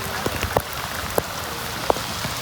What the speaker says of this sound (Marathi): मागाशी ऊन पडलं होतं आणि आता अचानक पाऊस चालू झालाय